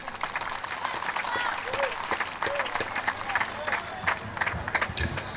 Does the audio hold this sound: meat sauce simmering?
no